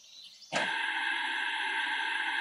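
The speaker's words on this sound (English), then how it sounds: "This sounds scary, like some white noise stuff." Eerie electronic static from the video game Fran Bow switches on abruptly and holds as a steady, buzzing drone with ringing tones, fairly quiet and alone.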